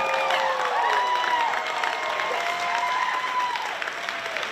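A crowd claps and cheers steadily throughout, with high whistles and shouts rising over the applause.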